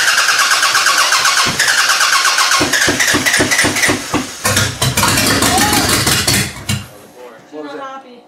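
Engine of a Toyota Camry demolition derby car that is struggling to start: loud rhythmic cranking that catches and sputters into rough, uneven revving, then cuts out, with metallic clatter and voices briefly afterward.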